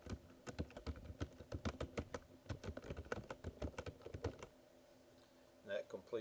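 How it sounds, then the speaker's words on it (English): Keys on a computer keyboard are typed in a quick irregular run of soft clicks for about four seconds, close but quiet, then stop and leave near silence. "we're going to type for immediate release"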